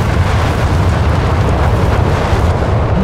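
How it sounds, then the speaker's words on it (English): Heavy wartime artillery and mortar fire in Company of Heroes 3, with a 17 pounder gun shot among the blasts, forming a loud, dense continuous rumble of explosions throughout. "Mortar gets a shot in from the 17 pounder gun."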